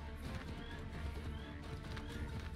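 Game-style horse hooves clop steadily at a moderate pace, with a brief whinny in the mix and no talking; horse in the PC game Assassin's Creed III.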